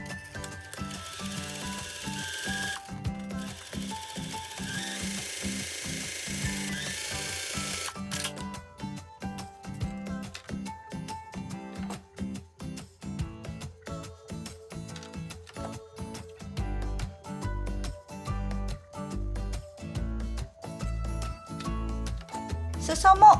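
Overlock serger machine stitching a rolled hem along the edge of thin fabric, rapid mechanical chattering in bursts with pauses between runs, close and fairly quiet.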